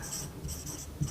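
A hand writes out a factorial notation example during a maths lesson, giving a brief burst of close, scratchy strokes with short pauses between them.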